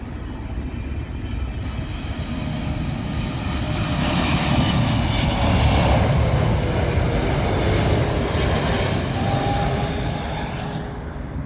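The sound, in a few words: Saudia Boeing 777 landing at Heathrow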